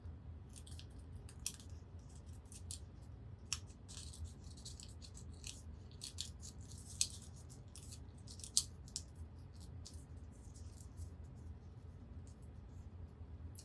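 Scissors cutting paper into a triangle for a folded paper football, a quick series of faint, crisp snips spread over a quiet background.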